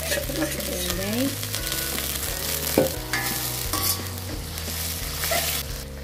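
Chicken pieces sizzle and fry steadily in a hot pan for chicken adobo, a dense continuous hiss with occasional stirring scrapes, while background music plays underneath.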